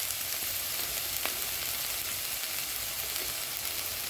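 Vegetables and ground spices for oats khichdi fry in a pan with a steady, close, dense sizzle and a few faint stirring clicks, with no voices.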